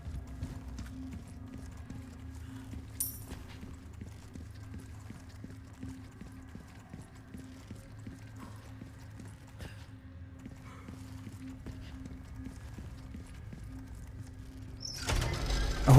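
Horse hooves clip-clopping at an even walking pace as the animal pulls a hay carriage in Resident Evil 4 Remake, soft and steady throughout with a sharper clatter right at the end.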